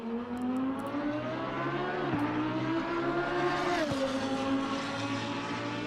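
A Lamborghini Huracan EVO2 GT3 race car screams around a lap at Paul Ricard in Assetto Corsa Competizione, its engine holding a loud, steady high-revving drone with quick upshifts, heard alone without any talking.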